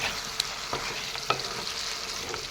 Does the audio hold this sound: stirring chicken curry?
yes